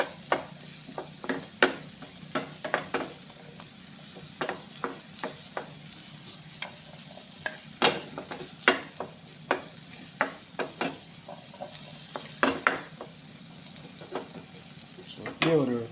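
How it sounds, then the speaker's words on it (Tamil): Sweet pumpkin sizzles as it is lightly grilled in a pan, with repeated close scrapes and taps of a utensil stirring it at an uneven rhythm over the soft frying hiss. "அப்படியே ஒரு 2 மினிட்ஸ் அப்படியே லைட்டாக கிரில் பண்ணுங்க போதும்"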